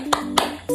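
Hand claps for a classroom energizer clapping chant: three sharp, close claps in a quick, even rhythm, with no voices.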